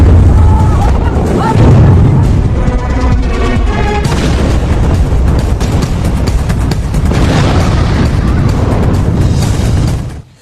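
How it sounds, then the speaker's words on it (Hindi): Blast as a ship is blown up at sea, a loud sustained rumbling boom with crackling debris lasting about ten seconds, heavy low roar throughout and fading at the end. "इसे धमाके से उड़ा दिया"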